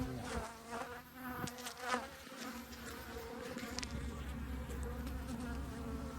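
Honeybees buzz densely around a favorite hive on a bee farm, a continuous close swarm drone with individual bees whining past the microphone, no talk.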